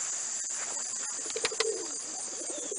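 Racing pigeons coo softly in a loft, a few low, rounded calls standing out over a steady background hum, faint and close with no talking.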